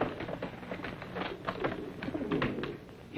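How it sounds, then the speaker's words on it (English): A flock of carrier pigeons cooing and fluttering at close range, soft overlapping coos and wing noise running steadily throughout with no voices. "What's that? Sounds like pigeons."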